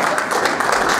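Brief applause from an audience at a workplace behavioral-based safety training session, a short burst of dense clapping heard up close and fairly loud.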